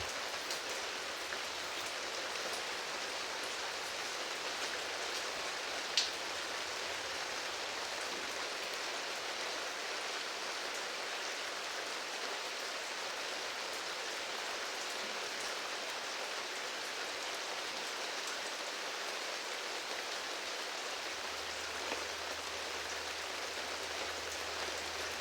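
Steady rain falls and patters on surfaces in a continuous hiss that stays even throughout, with no voices.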